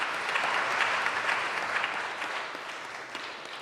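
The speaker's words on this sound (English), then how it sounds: "Can we give these two organizations a round of applause for putting this together?" An audience at a candidate forum applauds in a dense, steady wash of clapping that stays even throughout and fades slightly toward the end.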